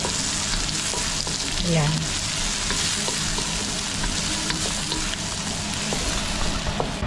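Fried pork ribs tossed in a hot wok, a loud dense sizzle with scraping and clattering of the stirring utensil running continuously, and a brief spoken word near the start.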